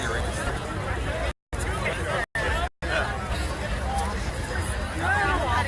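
Crowd of protest marchers and onlookers at a circumcision protest in Houston during the 2017 Super Bowl, a steady outdoor hubbub of many overlapping voices, chatter and footsteps, briefly cut out twice.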